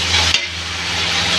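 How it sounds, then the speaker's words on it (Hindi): Macaroni being stirred and roasted in a hot pan with Maggi masala, a steady close sizzle with scraping stir strokes, alone without talk. "अभी से हम ऐसे भूज लेंगे"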